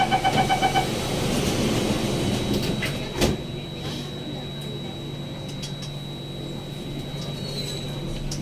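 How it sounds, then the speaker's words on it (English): SMRT C830 train doors slide shut at a Singapore station, one brief thud landing amid steady carriage hum and a faint tonal whine, with chime-like beeps at the start. "Doors are closing."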